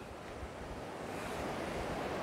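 Floodwater from a hurricane-swollen river rushes and swirls in a large whirlpool near a closed road, a steady broad roar close by with wind buffeting, no speech.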